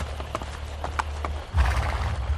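Hoofbeats clop rhythmically, then a horse whinnies, in the video game Assassin's Creed: Brotherhood, fairly close and moderately loud, with little else around.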